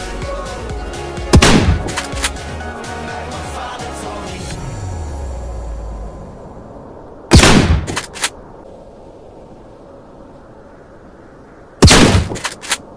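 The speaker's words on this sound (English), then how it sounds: "Now, reload. Let's use the shotgun." Shotgun fire in the video game Animosity: three loud, sharp blasts spaced several seconds apart, each followed by short clicks of handling, over a steady background game hum, with no speech.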